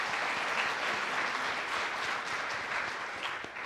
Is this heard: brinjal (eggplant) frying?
no